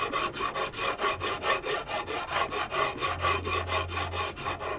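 A coarse saw cuts through silver while making a square chain necklace, producing steady, rapid back-and-forth rasping strokes in an even rhythm, close up with no talking.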